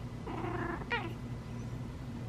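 A chatty female house cat watching out a window gives a soft drawn-out meow followed by a quick chirping trill, close and fairly quiet over a steady low room hum.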